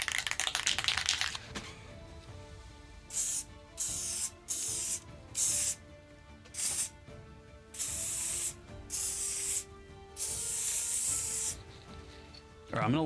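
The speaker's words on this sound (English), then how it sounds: "I'm gonna use this spray adhesive." Spray adhesive hisses from an aerosol can onto printed paper in about eight short, steady bursts separated by brief pauses. Light rubbing and handling noises come before the spraying. No one speaks.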